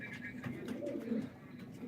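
Pigeons at a live auction coo in soft, low, repeated throaty calls, several birds overlapping at close range in a quiet room.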